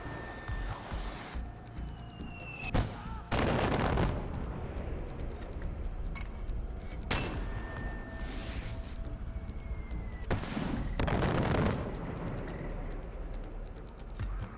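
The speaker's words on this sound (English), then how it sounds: "I don't know where he is, but I hear gunfire." Several heavy booming shots and blasts burst out at irregular intervals, loud and close, with a steady background hum between them and no talk, in the video game Far Cry 4.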